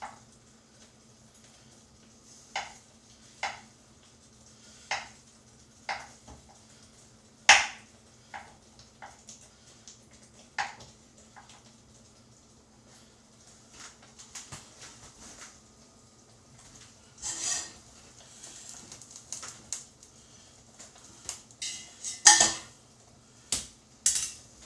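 Butter is stirred into cooked spaghetti noodles in a pot, giving a quiet run of scattered clinks and scrapes of a utensil against metal with soft, squishy movement between them.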